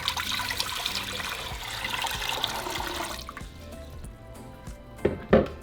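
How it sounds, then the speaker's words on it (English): Water, about eight cups, poured into a large pot on a kitchen counter, a steady rushing trickle for roughly three seconds that then stops, followed by a few faint clinks and drips. "We're going to add about 8 cups of water."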